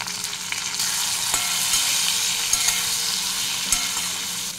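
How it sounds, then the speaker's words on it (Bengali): Ridge gourd frying on a high flame in a pan, a steady broadband sizzle with occasional light stirring clicks, close and continuous throughout with no voices. "তো এটাও দিয়ে একটু ভাজবো হাই ফ্লেমে।"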